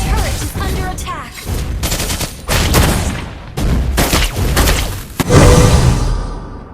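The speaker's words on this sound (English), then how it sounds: "Our turret is under attack." Loud battle effects from a mobile action game as a turret comes under attack: heavy bursts, thuds and whooshes in several dense clusters, with an announcer voice partly over them.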